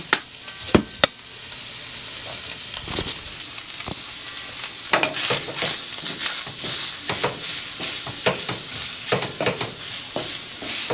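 Seasoned hamburger meat and onion sizzle steadily in a frying pan, with repeated scraping and stirring clatters from a utensil close by.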